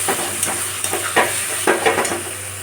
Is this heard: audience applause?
no